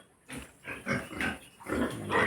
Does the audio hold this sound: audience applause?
no